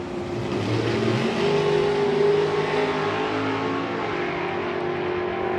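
A Pontiac Firebird and a Ford Anglia launch side by side in a Super Pro drag race final at Santa Pod, a loud sustained engine roar that rises and holds as the cars pull away down the strip.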